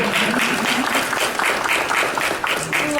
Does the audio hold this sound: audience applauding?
yes